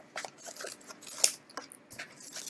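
Scissors cutting out a paper craft monster in two pieces, heard as close, quiet snips and crisp paper rustles in quick, irregular succession, with one sharper snip midway.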